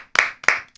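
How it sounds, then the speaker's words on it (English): A couple of sharp bursts of clapping from an audience, two quick loud swells less than a second long, close and without talk. "a round of applause for Joe Rogan."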